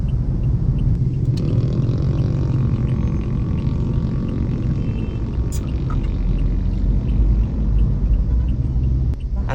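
Heavy road traffic in Cavite rumbles as a continuous low, loud drone heard from inside a vehicle, with engine and tyre noise and a few faint clicks.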